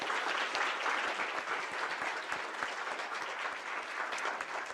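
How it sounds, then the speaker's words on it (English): At an academic summit, an audience gives a panel of speakers a round of applause: a steady, fairly loud patter of many hands clapping fills the room for several seconds without a break. "One more round of applause for our panel."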